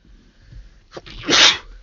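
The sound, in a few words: sneeze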